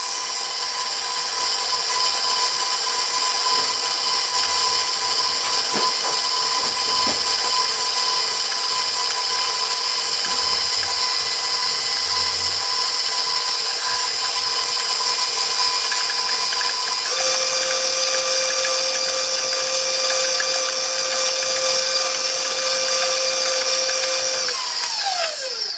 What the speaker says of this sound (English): With an electric mixer like this one, you need to sometimes scrape the sides of the bowl and then continue mixing.